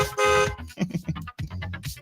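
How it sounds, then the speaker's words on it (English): A car horn honks in a long blast lasting about half a second, followed by a string of shorter honks from drivers on the road during the evening commute. "Honk your horn. Yeah, honk it again."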